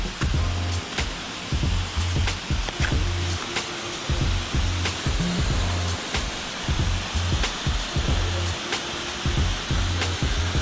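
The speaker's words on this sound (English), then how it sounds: "That's the falls!" A waterfall at Falling Edge pours steadily in a broad, continuous wash of noise, with repeated low rumbling bursts and crackles layered on top throughout.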